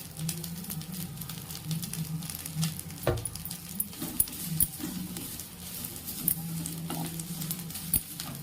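Idli podi ingredients dry roasting in a pan, with a quiet, continuous patter of grains shifting and rattling as they are stirred, broken by occasional sharp knocks of the spoon on the pan.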